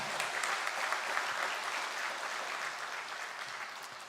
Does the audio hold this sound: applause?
yes